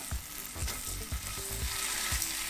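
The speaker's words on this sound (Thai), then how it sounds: "ไปโดนน้ำมันที่มันออกมาจากมอสเซลล่าชีสก่อนหน้านะมันก็ เหมือนเหมือนทอดชีสอะไรเงี้ย" Mozzarella cheese sticks sizzle and fry on a grill in their own melted oil, a steady close crackle broken by repeated soft low thumps and scrapes as they are pushed around.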